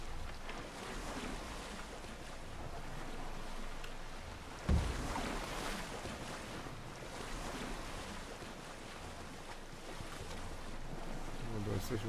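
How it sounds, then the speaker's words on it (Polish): A sailing boat cuts across the open sea in Assassin's Creed Odyssey, with steady wave wash and wind noise filling the whole stretch and one brief louder splash partway through. "jak płyniemy szybciej, to nam się zaczyna ta łódeczka dosyć szybko psuć"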